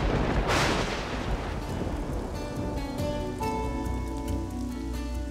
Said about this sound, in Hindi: बेमौसम की बारिश?